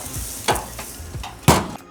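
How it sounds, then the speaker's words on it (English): A dry-aged tomahawk ribeye steak searing on a hot gas grill at 400 degrees, loud crackling sizzle with sharp bursts as the meat is moved, close and unaccompanied by talk. "Hear that sizzle?"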